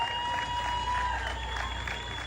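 A crowd applauds at a Diwali celebration at Wild Flower Park in Port of Spain, Trinidad, a steady outdoor wash of clapping that holds evenly for a couple of seconds with no clear voices.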